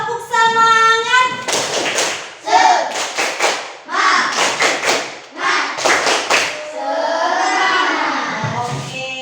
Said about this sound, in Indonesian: Kita tepuk semangat dulu satu kali biar tetap semangat